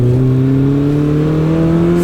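A car engine revs hard at full throttle, a loud, sustained tone rising steadily in pitch as it accelerates, close and continuous with no voices.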